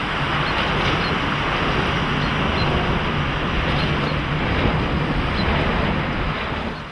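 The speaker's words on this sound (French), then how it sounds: "Et le bruit moteur, ça ressemble plus à un avion qui passe en altitude." Wind turbines on the windy Lévézou plateau in Aveyron give off a loud, continuous broadband roar and droning hum, steady like a high-altitude aircraft passing, with strong wind buffeting throughout.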